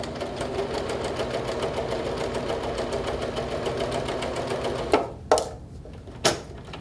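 A sewing machine runs steadily across fabric with a rapid, even mechanical chatter, then stops, followed by a few sharp clunks and handling knocks.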